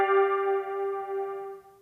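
A Roland MC-303 synth sounds a single sustained tone, steady and bright, fading slowly over about two seconds with nothing else beneath it.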